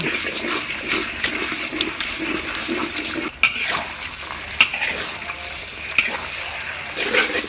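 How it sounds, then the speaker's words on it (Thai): Eggs fry in a smoking-hot wok during the cooking of dark soy sauce fried rice, a steady close sizzle with scraping stirs and a few sharp clinks of the spatula against the pan. "ใช้ไฟแรงนะครับ เอาให้ร้อนเลยควันขึ้นแล้วใส่ไข่ได้ รอให้ไข่เซตตัวก่อนนะครับ เสร็จแล้วค่อยคน"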